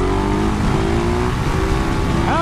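A 2020 KTM 690 SMCR single-cylinder motorcycle revs hard and accelerates, a loud, close, continuous engine roar that climbs in pitch toward the end.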